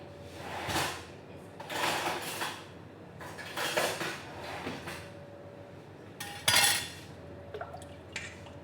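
Dosa batter of maida flour and sugar being mixed in a bowl, with a run of irregular clinks, knocks and scrapes against the bowl, fairly close, broken by short pauses and a sharper clatter near the end.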